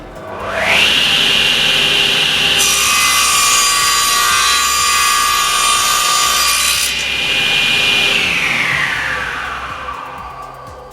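A SIP CTS10D 10-inch floor-standing circular saw, 230 volt, cuts through wood with a loud, sustained whining rip that builds as the blade bites and eases off at the end, heard alone without talk.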